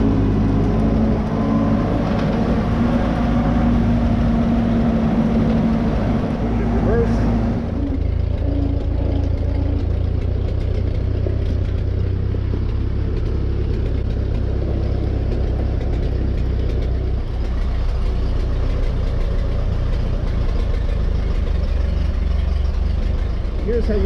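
An old Ford 9N tractor engine idles close by, a steady low rumble that drops slightly in pitch partway through and holds evenly to the end, with no voices over it.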